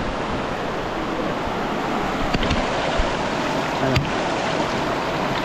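Cold, clear water flows in a mountain stream, making a steady, broadband rushing close by, with a couple of small clicks and a brief spoken word.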